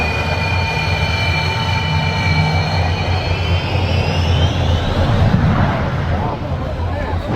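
A jet aircraft engine runs close to ground crew on an airport apron, giving a loud, steady roar with high whining tones that slowly fall in pitch, plus a heavy low rumble throughout.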